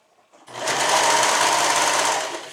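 A sewing machine stitches through the layered fabric of a suit seam, running as one steady, close, continuous whir for about two seconds after a brief start, with nothing else heard.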